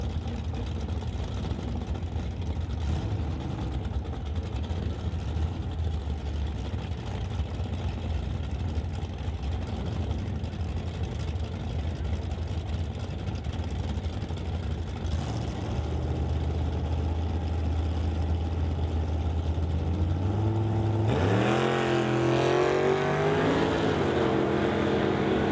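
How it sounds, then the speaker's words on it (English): Drag racing with an electric Chevy II among the cars: a steady distant engine drone and crowd hum, then near the end a louder car sweeps up in pitch as it launches. "Bring up Steve Wilson in the Genesis Langman and GL Electric Chevy 2 will race John Nielsen's Canso."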